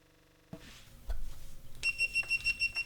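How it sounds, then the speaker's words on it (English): Loud electronic beeping marks the end of a radio show, sounding as a steady run of repeated tonal beeps in an even rhythm after a few scattered thumps and knocks, with no voices. "that beeping means that the show's over"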